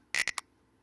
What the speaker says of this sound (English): Also the finger snap